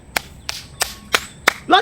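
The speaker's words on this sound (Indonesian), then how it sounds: "Jadi dirimu harus tepuk tangan" A few sharp hand claps spaced about a third of a second apart, loud and close, with a brief voice starting at the end.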